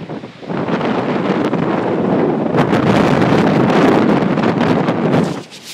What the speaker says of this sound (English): it's a little choppy out here and quite windy